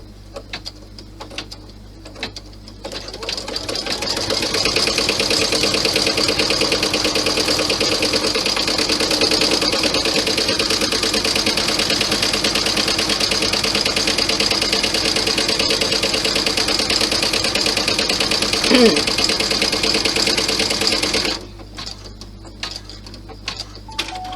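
An embroidery machine stitches a clutch design, starting up after a few seconds and running as a steady, fast mechanical whir and needle chatter for about sixteen seconds before stopping abruptly.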